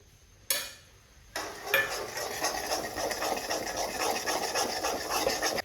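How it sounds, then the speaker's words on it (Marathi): Spices tipped into pav bhaji base in a pan, with a soft pour followed by steady scraping and stirring of the mixture against the metal, close and continuous with no talk. "तर हे मसाले टाकून घेते आता."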